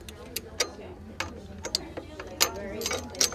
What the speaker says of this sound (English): You'll have to use a wrench on the bottom side and an Allen wrench on the top, and just loosen those bolts.